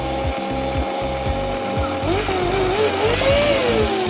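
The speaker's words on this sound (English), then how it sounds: "now the motor is going at super high speed" Small electric motor spun to high speed by a high-voltage capacitor discharge, giving a whining tone that rises steadily in pitch over a rough, rattling buzz.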